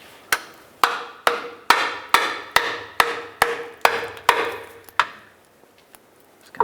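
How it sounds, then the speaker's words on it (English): Nine sharp, evenly spaced metallic taps ring out close by, working a pry tool to break a 2007-11 Toyota Camry oil pan free from its gasket-maker seal. A brief quiet follows the last few blows. "Just going to gently start prying down on this, try to break it free."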